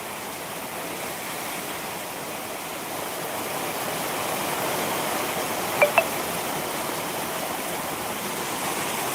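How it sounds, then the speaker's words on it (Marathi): Heavy downpour with water rushing along a village road, a dense continuous roar of rain and flowing water, loud and steady throughout, with a faint high click near the end. "एवढं मुसळधार पाऊस पडत आहे रस्त्यावरती पाणी वाहत असताना आपल्याला पाहायला मिळतंय"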